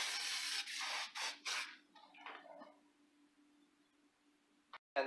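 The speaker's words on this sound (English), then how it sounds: "I'm gonna spray this pan" Several short bursts of cooking spray hissing close up onto a pan, followed by quieter scraping and a brief clatter at the end.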